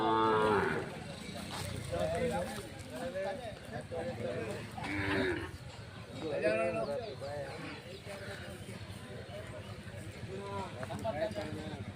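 Cattle, some brought from Dharwad, moo repeatedly at the Sugganahalli cattle fair. Several loud, close, drawn-out lows overlap with people talking in a busy outdoor crowd.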